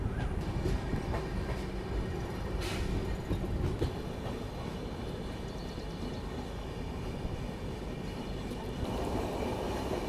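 The Alappuzha Dhanbad Express passenger train rolls along the rails, a loud, steady rumble with rhythmic wheel clatter heard from on board, continuous throughout.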